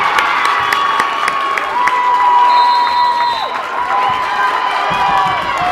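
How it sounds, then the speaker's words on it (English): Crowd cheering and shouting at a high school boys basketball game in a gym, a loud continuous roar of voices with whoops and sneaker squeaks, sustained throughout. "And the crowd goes wild here"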